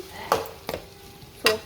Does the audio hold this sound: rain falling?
no